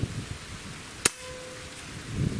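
A single sharp airgun shot fired through a Cattleman Guns Covert moderator, a brief crisp crack standing out once against quiet room noise with a faint ringing tail.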